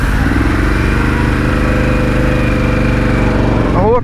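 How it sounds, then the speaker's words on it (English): A Harley-Davidson Pan America engine runs loud and steady at close range, a continuous throbbing drone that holds even throughout and rises briefly at the very end as if revved. "I'm riding a Harley."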